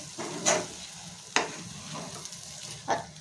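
A pan of corn mixture with cheese and coriander is stirred while it cooks, giving a close, soft sizzle broken by about three sharper scraping strokes of a spoon against the pan.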